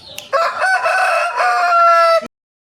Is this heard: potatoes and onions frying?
no